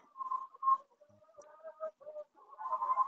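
Hens and a rooster with an injured foot cluck softly in a homestead coop, with short scattered calls that come and go and rise into a fuller burst of clucking at the end.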